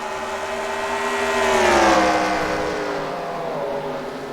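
Race cars in a Sonoma sim racing league, engines swelling to a loud peak mid-clip as they brake and power back up, with a steady droning whine throughout and no talking.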